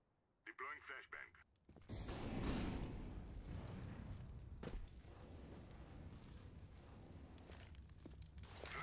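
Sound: flashbang grenade deployed in Counter-Strike: Global Offensive video game

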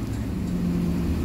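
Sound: 2007 Nova LFS city bus shifting gears

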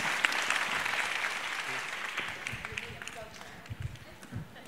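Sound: audience applause

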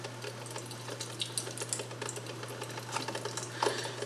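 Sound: traditional drip coffee maker putting water into the pot

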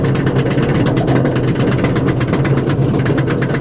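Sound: Untamed RMC roller coaster climbing slow lift hill

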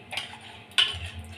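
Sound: stirring dal in pot with spoon after adding salt

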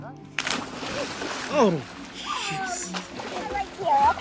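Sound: splashing in a swimming pool

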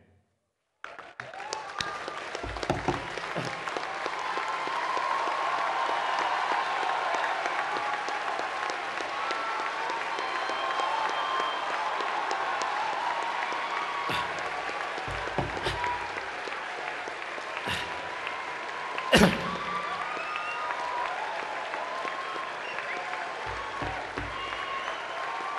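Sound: audience applause at a university convocation

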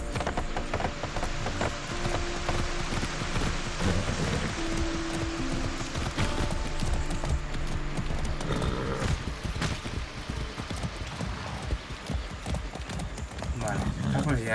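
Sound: horse galloping hooves in Far Cry 6 video game

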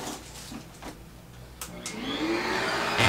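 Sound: dog grooming kit vacuum running

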